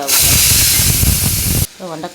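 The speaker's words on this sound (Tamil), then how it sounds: "வதக்கலுக்கு வெண்டைக்காய் வதங்கிட்டு இருக்குது." Loud, steady sizzling of okra sautéing in a hot pan, a dense hiss that cuts off abruptly near the end, followed by a brief voice.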